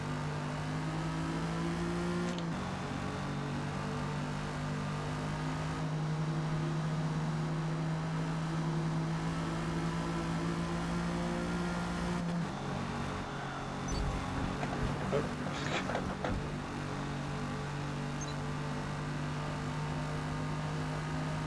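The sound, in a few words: 1956 Jaguar D-Type tires and engine in video game Forza Motorsport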